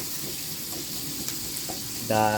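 Onions for a Filipino sizzling squid dish sizzle in a hot pan and are stirred: a steady, close, bright frying hiss with faint stirring scrapes, and a humming voice rises over it at the very end.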